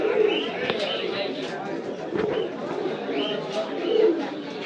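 Pigeons coo repeatedly at a busy pigeon market in Bangladesh, low murmuring calls rising and falling beneath near, steady talk and crowd noise.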